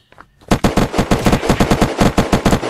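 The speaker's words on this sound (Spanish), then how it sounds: "Ah, que me están disparando, tío." Rapid automatic gunfire in the video game Unturned, a loud, close burst of about fifteen evenly spaced shots after a brief quiet start, with no voices.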